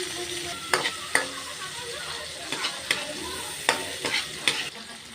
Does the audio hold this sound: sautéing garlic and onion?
yes